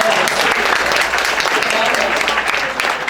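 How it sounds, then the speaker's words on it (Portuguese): Students at a university communication event applaud a professor, loud, dense clapping that fills the room without a break from start to finish. "Então, professor, mais uma salva de palmas, porque realmente ele merece"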